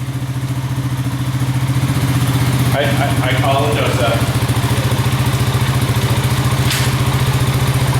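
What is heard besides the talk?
Honda Rancher 350 ATV engine idling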